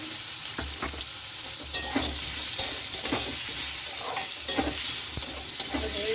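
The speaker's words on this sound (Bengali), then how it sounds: "আলুটা দিয়ে একটু ভেজে নেব।" Potatoes frying in a pan with salt and turmeric, giving a continuous sizzle broken by regular scraping stirs of a spatula, close up, no talking.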